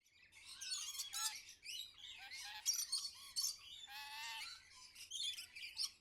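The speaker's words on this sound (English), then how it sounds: "Here's a parrot. A parrot is a bird." A parrot squawks and chirps in a steady run of harsh, high calls and shrill tweets, close and moderately loud with brief pauses between bursts, no talking over it.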